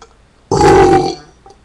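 A loud, long burp erupts after a quiet pause, rumbling for about half a second before trailing off, followed by a faint small sound.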